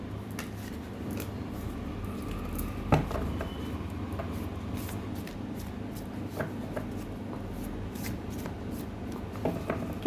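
Tarot cards are shuffled quietly and close by, giving soft papery rubbing and flicking with a few sharper slaps and taps, alone without talk.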